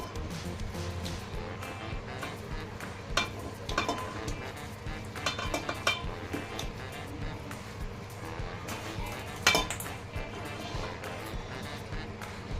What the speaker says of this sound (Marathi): मी अर्धा किलो बटाटे शिजवून घेतलेले आहेत बघा आणि ते मॅश करून घ्यायच्यात मॅशरच्या सहाय्याने